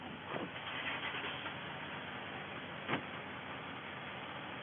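An old truck engine turns over and idles, a rough, steady mechanical drone with a couple of brief knocks near the start and again near the end.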